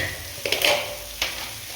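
Grated coconut roasts on the stove for mint chutney: a soft background sizzle broken by a few quick clacks of a spoon stirring in the pan.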